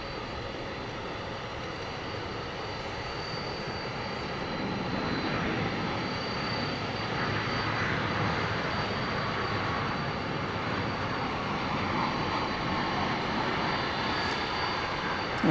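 Jet aircraft engines rumble steadily at Dallas Fort Worth airport at night after a plane detaches from its pushback tug, a broad continuous roar that swells slightly louder midway and holds, with no talking.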